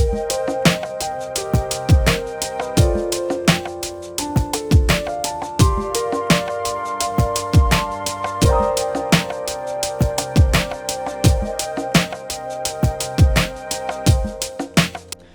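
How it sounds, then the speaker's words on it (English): A synth flute plays swung chords and a bright melody over a steady, punchy beat, with the notes bouncing in a relaxed, lilting rhythm. "we are going to add in a little flute part at the top."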